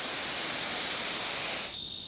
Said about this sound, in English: Lovely waterfall here.